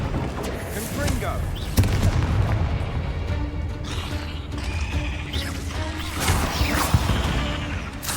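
Confringo, a fiery explosion spell in Hogwarts Legacy, goes off amid busy game combat, with booming blasts and crackling bursts layered over a dense mix of effects and voices.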